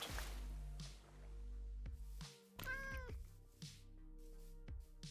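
A cat in the Minecraft video game gives a single short meow midway through, over quiet sustained background tones and a few soft plinks, all at low volume.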